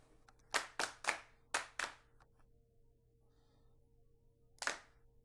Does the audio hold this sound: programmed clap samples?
yes